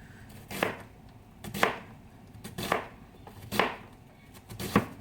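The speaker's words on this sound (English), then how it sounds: "Right now I'm slicing up the onions." A knife slices through onions on a cutting board in a home kitchen, making five evenly spaced, crisp chopping strokes roughly a second apart, each a sharp thud against the board over a quiet background with no talking.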